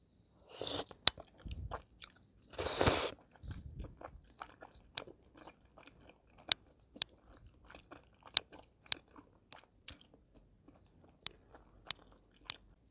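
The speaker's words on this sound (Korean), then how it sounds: "떡볶이 사운드를 제대로 들려드릴게요" Close-up chewing of rosé tteokbokki rice cakes with soft, squishy bites, a couple of louder crunchy bursts early on, then quiet intermittent mouth sounds.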